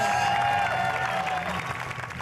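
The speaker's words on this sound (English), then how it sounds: "Let's give him a big round of applause, Rodney Mullen." An audience at a talk claps steadily, a dense wash of applause that gradually thins and fades out.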